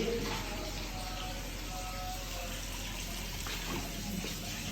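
Filtered water pours steadily into a plant pot at home, a soft continuous trickling rush heard at low level with no breaks.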